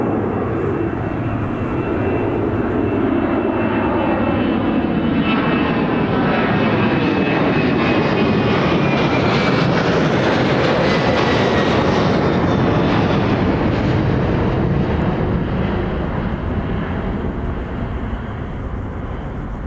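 Ryanair airliner engines roaring at Birmingham Airport, a loud continuous broadband rumble that swells and whines as the plane passes close by, then slowly recedes.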